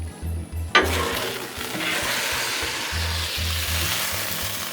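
Steak sizzles on a Blackstone griddle with a bright, steady frying hiss that starts abruptly and holds, over low, irregular knocks and scrapes of cooking work.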